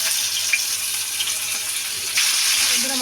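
Rohu fish pieces sizzle loudly in hot mustard oil, a dense crackling hiss that surges and grows stronger partway through, close and without talk.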